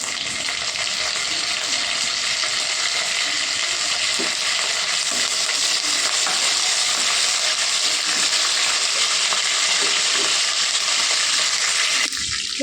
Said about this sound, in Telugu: కరివేపాకు వేగిందండి